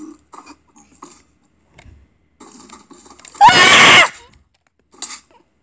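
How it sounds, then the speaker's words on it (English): A single loud, harsh yell bursts out for about half a second in the middle of Minecraft gameplay, alone and far louder than the faint, scattered talk and game sounds before and after it. "Now we'll yell, the loudest yell ever."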